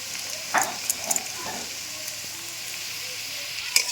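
Vegetables with chopped ginger frying in a pan for Bengali fried rice, a soft steady sizzle with a few clinks and scrapes of stirring, and a voice talking faintly underneath.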